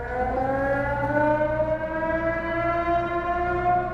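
Civil defense alarm siren sounding at Jonestown, a single steady wailing tone with stacked harmonics rising slowly in pitch, loud and continuous over a low rumble for the whole span, no voices.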